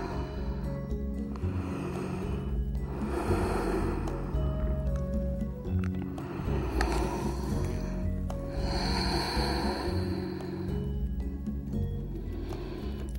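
Slow, deep breathing of a person resting in yoga child's pose, head on the floor, with soft drawn-out inhales and exhales against a low steady background hum.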